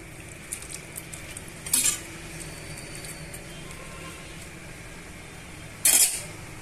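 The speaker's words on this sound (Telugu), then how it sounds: "ఇప్పుడు మనం ఒకసారి కుక్కర్ మీద మూత తీసి చూద్దామండి" Two sharp metallic clanks stand out over a quiet kitchen background as the lid is taken off a pressure cooker holding cooked chicken for biryani; there is no speech.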